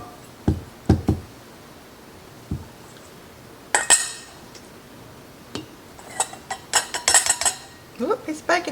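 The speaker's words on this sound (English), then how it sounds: "we're going to strain the beans, and we're going to put about right at 3/4 of the way full" Canned baked beans being strained and spooned into a pint glass jar in a kitchen, with scattered clinks, knocks and scraping of utensil against glass and metal in irregular bursts, a few louder hits, under occasional talk.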